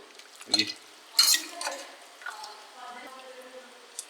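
Cooked beef for Kerala-style kappa biriyani is stirred in a pot, with a few quiet scrapes and clinks of a spoon against metal and a faint voice nearby.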